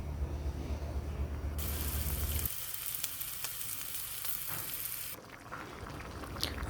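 Egg curry with potatoes simmering and sizzling in a pan after broth is poured in, a steady close bubbling hiss that swells louder for a few seconds, then settles, with no talking.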